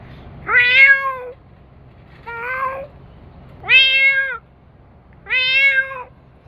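A cat meows four times, long drawn-out calls spaced about a second and a half apart, close and clear with no talking.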